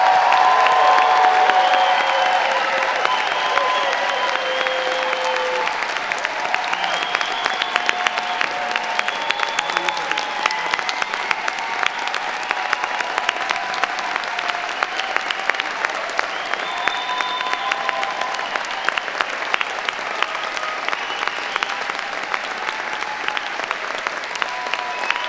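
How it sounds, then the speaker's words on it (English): An audience applauds at a college graduate hooding commencement ceremony, sustained clapping for about twenty-five seconds with music running beneath it, loud at first and then settling to a steady level. "Let's provide one more loud round of applause for all of our doctoral"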